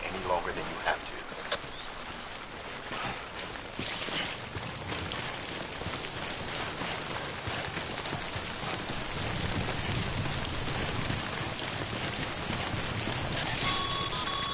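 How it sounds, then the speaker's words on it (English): Steady heavy timefall rain hisses across the Death Stranding game world, a dense constant patter that holds throughout, with faint distant rumbles and a voice speaking over the downpour. "Don't stay out in the rain any longer than you have to."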